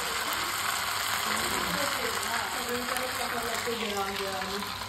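Rajasthani ghevar batter poured into hot oil on a high flame, a steady dense sizzle and bubbling of frying that holds evenly throughout without any clear pauses.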